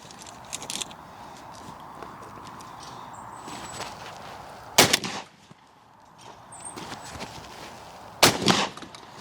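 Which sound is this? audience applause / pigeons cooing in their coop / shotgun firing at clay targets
shotgun firing at clay targets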